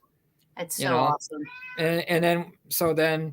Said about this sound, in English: You hear that? Do you know that's the cat.